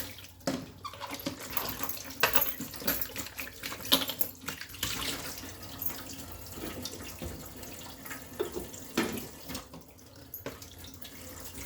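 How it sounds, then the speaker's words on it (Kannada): Dishes being scrubbed and rinsed one by one under running water in a kitchen sink, with a steady tap flow broken by clatters and splashes throughout. "ಸಿಂಕಿಂದ ನಾವು ಫಸ್ಟು ಥರ ನೀಟಾಗಿ ನೀರು ಹಾಕ್ಕೊಂಡು ಒಂದೊಂದಾಗಿ ತೊಳಿತಾ ಇದ್ದೀನಿ"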